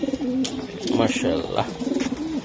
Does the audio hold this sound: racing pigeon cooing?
yes